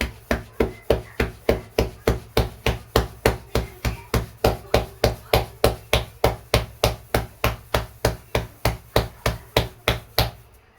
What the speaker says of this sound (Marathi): हे बघा असं थापून घ्यायची भाकर पातळ